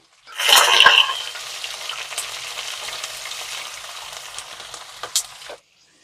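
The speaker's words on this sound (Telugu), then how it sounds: "కంపల్సరీ మనం నాన్ స్టిక్ లోనే ఫ్రై చేసుకోవాలండి ఇక్కడ చూడండి ఉల్లిపాయలు పచ్చిమిర్చి వేస్తున్నా" Chopped onions and green chillies are dropped into hot oil in a non-stick pan and burst into a loud sizzle. The frying then settles into a steady hiss, with a few sharp pops near the end.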